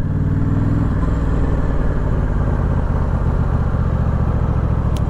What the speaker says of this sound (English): Yeah, idle is definitely hanging high.